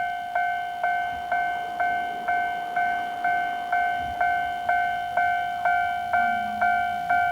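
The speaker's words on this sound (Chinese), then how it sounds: "明明就有听到火车要来的声音，但是画面当中一直拢看无火车。" A railway-crossing warning signal for an approaching train rings at a station-themed park in Tainan, with evenly spaced electronic dings repeating about twice a second, clear and steady with no other sound.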